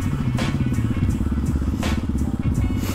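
A KTM supermoto motorcycle engine revs hard and steady up close while climbing a steep hill, with clattering and bumps over the drone.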